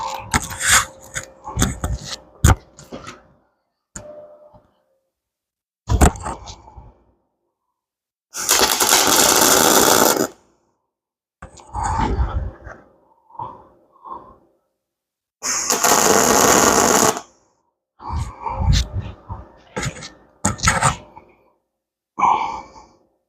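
Yeswelder DP200 welder laying short tack welds, bursts of loud crackling buzz lasting one to two seconds, separated by quiet gaps with scattered handling noise and breaths.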